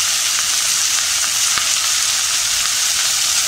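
Raw jackfruit pieces with salt, cooked as a Malvani-style vegetable, sauté in a pan with a steady close sizzle and faint, occasional stirring ticks. No voices.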